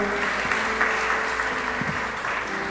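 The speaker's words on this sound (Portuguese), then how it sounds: "Dê um aplauso bem forte ao Senhor." A church congregation claps loudly in praise to the Lord, a brief, continuous burst of many hands applauding at close range with a few faint voices underneath.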